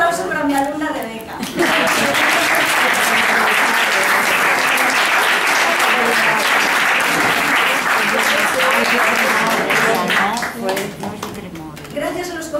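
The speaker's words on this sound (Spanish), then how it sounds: "quiero un aplauso para mi alumna Rebeca" At a tribute gathering for someone during an outing to El Bierzo, a group bursts into loud, sustained clapping for a student named Rebeca. The clapping follows a brief spoken line and runs about ten seconds before voices return.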